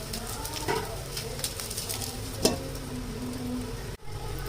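Homemade cutlets frying in a pan with a little oil drizzled over them, a soft steady sizzle with a few brief clinks and bumps, close by.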